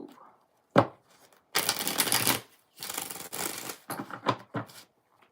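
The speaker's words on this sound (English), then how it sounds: "2 more shuffles." A deck of tarot cards is shuffled in several bursts of rapid riffling and flapping, close and fairly loud, with short pauses and a sharp tap between them and no talk over it.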